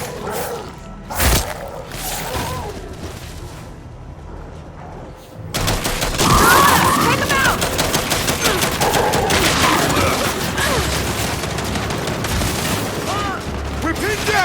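Sustained automatic turret fire in the Gears 5 video game, a dense, loud fusillade beginning around midway and continuing with booming thumps, after an earlier quieter stretch with isolated shots and brief voices.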